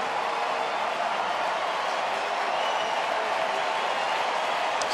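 A sellout ballpark crowd of more than 41,000 at a Baltimore at Detroit baseball game roars steadily, a dense, continuous wash of cheering and applause that stays loud and even throughout.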